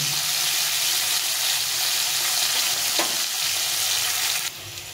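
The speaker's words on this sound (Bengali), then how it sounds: "ভালো করে ভেজে নিচ্ছি" Bitter gourd pieces frying in hot oil in a pan, a loud, dense, continuous sizzle with a brief clink of stirring, cut abruptly to a quieter hiss near the end, no voices.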